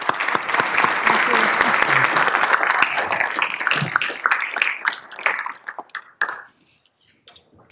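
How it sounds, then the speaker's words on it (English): Conference audience at a Bitcoin expo applauding after a talk, a dense burst of clapping that thins into scattered individual claps and fades out near the end. "Let's get a round of applause."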